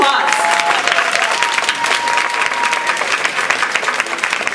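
Loud, close applause from an audience at a Toastmasters district conference speech evaluation contest, dense clapping throughout with voices mixed in.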